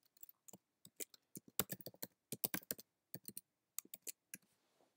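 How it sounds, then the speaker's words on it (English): Someone types code on a computer keyboard in a Python IDE: quick, close, crisp key clicks in uneven bursts with short pauses between them, no talk. "you can type in code here."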